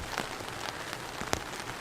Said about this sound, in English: it is 7 o'clock now, and it is still raining.